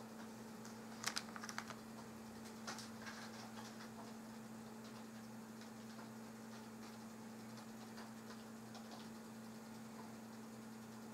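An IP address typed on a computer keyboard, a few quick soft key clicks early on and then sparse faint taps over a steady low electrical hum.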